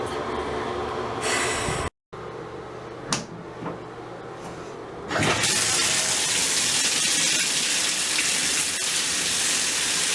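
Water gushes steadily into a bathtub as it fills for a bath, a loud continuous rush that starts partway through after a few quieter knocks and handling sounds.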